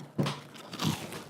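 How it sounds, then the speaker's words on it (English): A crunchy bite into a funnel cake cannoli, with two close crisp crunches a moment apart and no talking. "I don't know if you hear the crunch."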